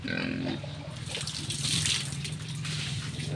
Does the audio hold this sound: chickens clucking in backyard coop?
no